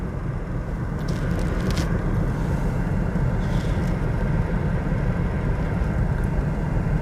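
A car pulls away slowly as the clutch is gently let out, with a steady low engine rumble holding evenly throughout and no one speaking.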